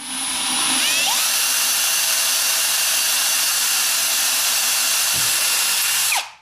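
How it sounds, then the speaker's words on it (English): A power drill bores 8mm holes for T-nuts while building a subwoofer box for a Toyota Prado, one loud, steady high-pitched whine running several seconds before stopping abruptly, with no talking. "just drilled out 8mm holes for our T-nuts to go into"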